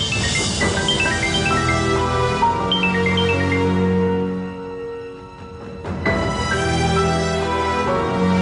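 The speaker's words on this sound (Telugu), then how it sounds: "ఆ సాయంత్రం పల్లవి ఫ్రెండ్ విజయ్ నుంచి కాల్ వచ్చింది" A mobile phone rings with an incoming call, a loud melodic ringtone of bright repeating tones that plays for several seconds, dips briefly, then starts again with no talking.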